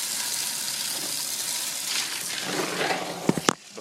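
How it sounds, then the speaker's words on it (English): Water gushes steadily into a bucket outdoors in the rain for an ice bucket challenge, a constant rushing hiss that ends with a couple of sharp knocks close by. "now it's time to fill this baby with water"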